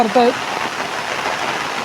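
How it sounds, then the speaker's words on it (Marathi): Steady rain hisses down heavily, a dense constant wash of noise, with a brief tonal sound near the start. "जोरदार पाऊस पडतो आहे"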